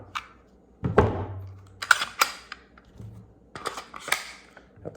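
A 10mm round is chambered in a Glock 21 pistol, giving a few sharp metallic clacks and thunks of the slide and cartridge, spaced irregularly over a quiet background.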